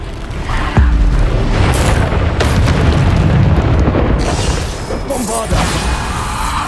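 Bombarda blasting spell exploding in Hogwarts Legacy on PS5, a heavy, loud boom with crashing debris that rumbles on for several seconds before easing, close and dominant.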